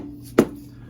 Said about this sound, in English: So I'm gonna tap the oil pan and see if it comes down